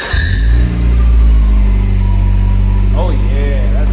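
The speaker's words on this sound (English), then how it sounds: "I can't wait for you guys to hear what this sounds like." A Honda Prelude fitted with an Invidia Q300 aftermarket exhaust runs with a steady, deep low rumble up close, the engine note holding fairly even throughout.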